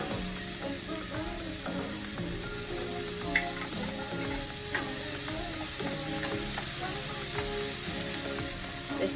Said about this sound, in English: Just until my onions start to brown a little.